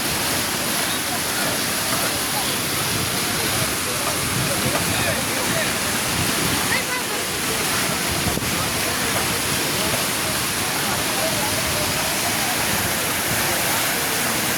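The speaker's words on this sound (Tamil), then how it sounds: "தண்ணி மேலே வந்து கீழே உழுவுற மாதிரி பாருங்கள்." A steady roar of falling water at Hogenakkal Falls, India, continues the whole time, dense and unbroken like a nearby waterfall.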